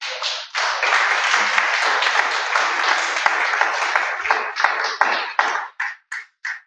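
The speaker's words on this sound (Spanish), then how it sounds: "Dale un aplauso al Señor." A church congregation bursts into dense, loud applause that holds steady for several seconds, then thins out into a few separate final claps.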